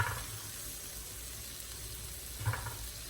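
Faint, steady sizzle of a hot pan with onion and garlic as meat goes in for pepper steak, with a couple of soft clinks or stirring bumps near the start and end.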